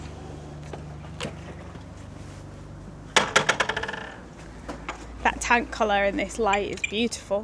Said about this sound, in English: Oh, what was that? That's the alarm system.